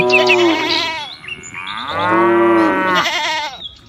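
Cartoon cows and goats grazing in a field give loud, drawn-out moos and bleats: three long calls, each separated by a brief pause, close and clear.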